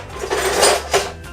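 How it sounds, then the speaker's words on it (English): A medium-sized metal pot clanks onto a kitchen stove, two or three close knocks and scrapes of metal, with no talk. "we're gonna get a medium sized pot here, put it on the stove"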